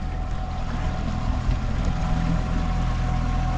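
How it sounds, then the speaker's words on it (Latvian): Motorboat engine droning steadily close by on the water off Evia, Greece, a continuous low hum with light wind noise and no talk. "Laivas braukā."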